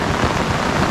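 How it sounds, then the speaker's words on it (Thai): Heavy rain pouring during a storm with flooding water, a dense, loud, continuous hiss of drops lasting a brief moment with no voices. "ฝนตกนะครับ"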